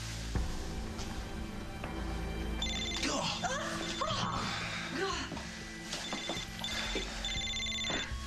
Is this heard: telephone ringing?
yes